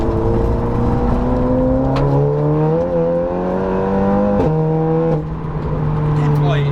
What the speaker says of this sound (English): Them gear changes on that DSG as well. They're like lightning.